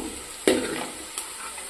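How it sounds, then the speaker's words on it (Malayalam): Tuna fish pieces frying in oil for a tuna pickle, with a sharp clatter as they are turned at about half a second and a softer knock shortly after, over a steady close sizzle. "നമുക്ക് മീൻ കഷ്ണങ്ങളൊക്കെ ഒന്ന് മറിച്ചിട്ട് കൊടുക്കാം നന്നായിട്ടൊന്ന് ഫ്രൈ ചെയ്തെടുക്കണേ"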